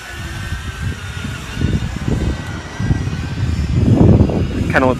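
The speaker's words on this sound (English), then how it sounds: "I just kind of want to give it a maiden flight" A JJRC X6 Tarantula quadcopter drone flies outdoors in strong wind, its motors a steady whirring drone under ongoing wind rumble and someone talking nearby.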